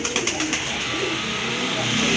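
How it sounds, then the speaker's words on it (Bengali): Pigeons coo close by in a steady, soft, rolling murmur, with a constant background hum and no talking. "মাশাআল্লাহ আরেক জোড়া কবুতর আছে এখানে"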